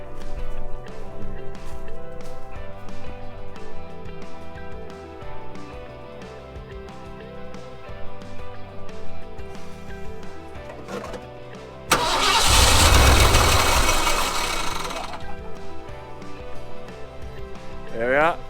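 A flamed Ford F100 Bullnose V8 truck, left sitting outdoors for 11 years, cranks with a rapid churning starter beat, then fires abruptly into a loud, rough roar that settles and fades after a few seconds.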